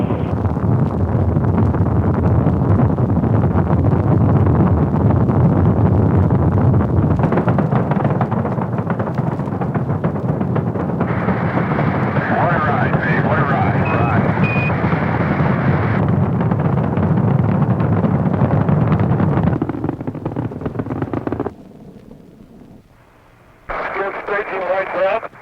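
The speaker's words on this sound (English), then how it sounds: "Liftoff. We have liftoff 49 minutes past the hour." Rocket launch liftoff roar: a broad, loud, continuous rumble that holds for about twenty seconds under radio-style commentary, then drops away abruptly to near quiet before some noise returns.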